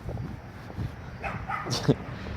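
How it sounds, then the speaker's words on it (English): A sad dog barking near a main road, a few soft, whimpering yips and barks, faint and somewhat distant amid background noise. "Such a sad dog barking at me."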